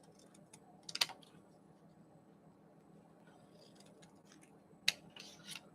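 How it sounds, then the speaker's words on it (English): Scissors cutting paper pieces from a sheet, heard as two brief crisp snips about four seconds apart against a quiet room, with soft faint rustling between them and no one speaking. "So I'm going to cut some of these out here."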